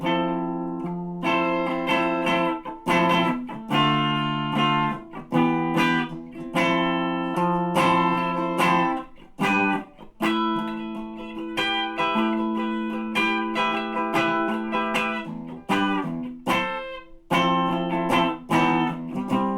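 Slow run-through of the rhythm guitar part from a song, an electric guitar playing sustained chords with short gaps between phrases, clear and close with no talking.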